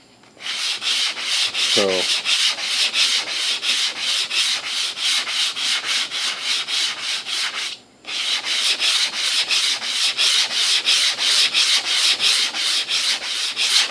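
Hand sanding of a stained wooden clock, heard as close, loud, rhythmic back-and-forth rubbing strokes that continue steadily with one brief pause, while a voice speaks a single word early on.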